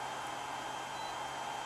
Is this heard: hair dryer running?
yes